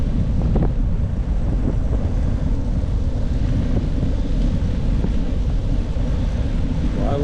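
A strong headwind roars steadily against the microphone while riding on an autumn tour, a constant low buffeting rumble with no break, close and loud.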